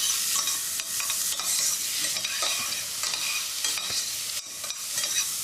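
Shallots, carrots and garlic sizzle and crackle in a hot pan, a steady broadband frying hiss with faint stirring scrapes throughout, close and alone without talk.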